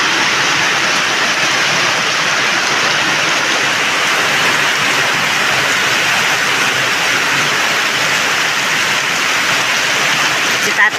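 Heavy rain pours steadily onto a vegetable garden of eggplants, a dense, unbroken roar of close downpour lasting throughout with no pauses.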